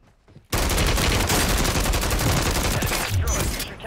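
Sudden onset of rapid pistol gunfire in Warzone, a loud, dense volley of shots running steadily after a brief quiet start, with faint voices beneath.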